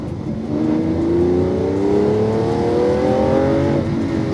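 A car accelerates hard on a race track, its engine note climbing steadily in pitch as it pulls through a gear, loud and close without a break for several seconds.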